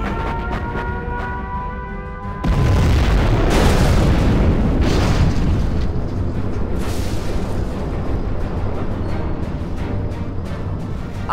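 A nuclear missile detonates in the strategy game Command & Conquer Generals Zero Hour, a sudden heavy boom that swells into a long, roaring rumble, heard after a stretch of quieter tonal game sound.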